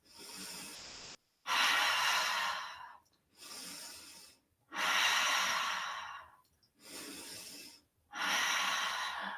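Deep yoga breaths during a studio flow, five long breathy sighs of inhale and exhale in a slow even rhythm, close and fairly loud, separated by short silent pauses, with no talking.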